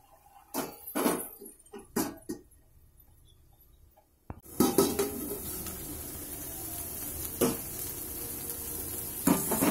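A lid is set onto a cooking pan of softening onions for koi fish, giving a few sharp metallic knocks up close, followed by a steady frying sizzle with occasional clinks.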